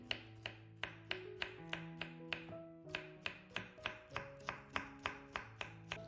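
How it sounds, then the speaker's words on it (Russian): Rapid, even knife chops through walnuts on a cutting board, about three per second, crisp and close, against a low background hum. "30 грамм орешков грецких. Я нарезаю не слишком мелко,"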